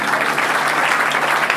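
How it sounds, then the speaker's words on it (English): Loud, dense audience applause for football teams at a football gathering, continuous steady clapping close up and filling the whole short stretch. "I think we should give a round of applause to the teams that are here today."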